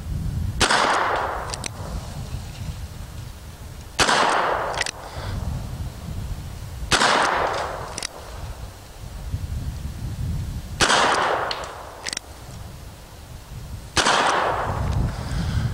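Old gun fired at a few yards, five sharp loud reports spaced about three seconds apart, each followed by a fainter click or clatter, with no one talking.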